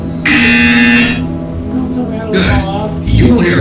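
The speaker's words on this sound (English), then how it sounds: "When you hear the buzzer, engage your atrophied neck muscles and look up at the ceiling." A buzzer sounds in the VR video game Portal Stories: VR, one loud, steady electronic buzz of about a second, followed by a voice talking over a low background hum.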